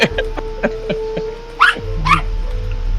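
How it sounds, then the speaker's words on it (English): Someone's dog barks in the background of a voice-chat tabletop role-playing session: a string of short, spaced barks and yips, fairly faint and distant, with a hum and mic noise underneath. "I'm getting somebody's dog barking in the background."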